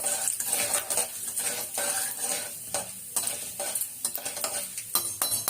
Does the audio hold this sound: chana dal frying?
yes